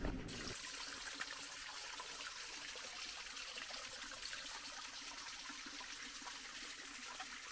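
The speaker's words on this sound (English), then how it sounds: "Nice clear pool of water." Water trickling into a clear pool beside a hiking trail, a faint, steady hiss-like babble that runs unbroken for several seconds with no voices.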